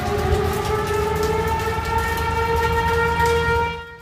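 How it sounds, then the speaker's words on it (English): A loud, sustained wailing tornado warning siren drones steadily, its tone holding nearly flat before cutting off at the end. "Tornado sirens sounding throughout the mid-state this morning"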